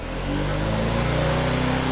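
A one-cylinder engine vehicle accelerates down the road, its steady low engine drone holding loud and close throughout without speech.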